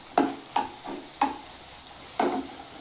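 Egg and pumpkin roast is stirred in a pan, with four spaced scraping strokes of a spatula over a soft background sizzle, close and clear, and no talking.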